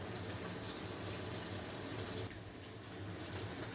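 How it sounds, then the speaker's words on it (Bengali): Water poured into dry ground spices (turmeric, salt, chili powder, cumin, coriander, black pepper, dried chili) for a fish curry paste, a steady close trickling rush that eases slightly near the end. "শুকনো মশলাগুলোর মধ্যে সামান্য জল দিয়ে একটু মশলাটাকে পেস্ট করে রেখে দিচ্ছি"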